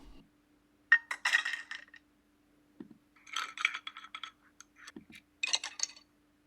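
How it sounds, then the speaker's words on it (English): A generated sound effect of ice cubes dropping into a glass comes in three separate bursts of bright clinks and rattles, each preceded by a faint knock, with near silence between them. "Ice cubes being dropped into a glass."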